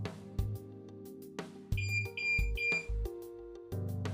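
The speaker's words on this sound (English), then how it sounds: "you should hear the beep from the dash cam turning on" A motorcycle dash cam powers up with a short run of high electronic beeps in quick succession, heard over steady low background hum.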